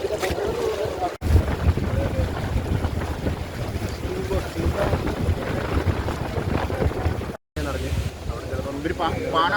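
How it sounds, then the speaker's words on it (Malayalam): Strong wind batters a boat on Vembanad Lake during a rescue, a loud continuous roar and buffeting with water and voices mixed in. "അത് വള്ളത്തെ പിടിക്കുന്നില്ല കാറ്റ് കാരണം വളരെ പെട്ടെന്ന്"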